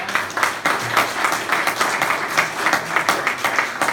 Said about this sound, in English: But let's give a round of applause for Tom.